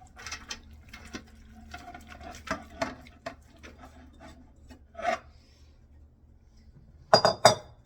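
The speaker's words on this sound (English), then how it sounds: "I'm gonna dump all my onions and my cucumbers into this big pot so I can mix them up nicely" Chopped onions and cucumbers dumped into a big pot for canning cucumber salad: a series of soft scraping and rustling thumps, with a sharper clatter of utensil against pot near the end.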